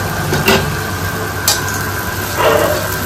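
Crushed garlic sizzling in a pan of frying potatoes, a steady hiss with a few louder bursts of spatter and stirring.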